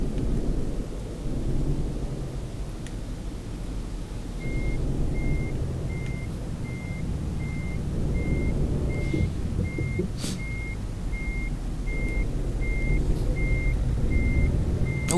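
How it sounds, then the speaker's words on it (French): A truck's reversing alarm in the video game Euro Truck Simulator 2 beeps in a steady, evenly spaced series over a low engine rumble and a dull, stormy background. "Il est en train de faire marche arrière le monsieur."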